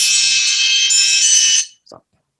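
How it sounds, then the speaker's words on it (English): An alarm sounds loudly and continuously for about a second and a half, a steady high-pitched electronic tone that then cuts off abruptly, followed by a brief faint click. "So that was my alarm."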